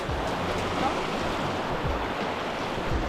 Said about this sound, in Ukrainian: Річка Джурджить.